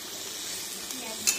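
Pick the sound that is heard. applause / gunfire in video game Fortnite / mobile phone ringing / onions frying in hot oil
onions frying in hot oil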